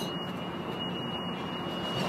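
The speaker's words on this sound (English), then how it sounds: "here comes another Metrolink" A Metrolink commuter train rolls into a large station with a steady broad rumble of wheels on rails and a faint high thin squeal running throughout, no voices.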